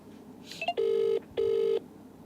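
A phone places a prank call: a few quick faint beeps, then two long, loud ringing tones with a short gap between them, heard alone.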